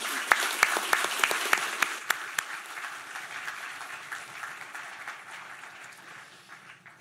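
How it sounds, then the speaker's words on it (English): A conference audience applauding panelists at an Arctic security event, a few crisp separate claps first, then dense steady clapping that slowly thins and fades toward the end. "Give them a round of applause."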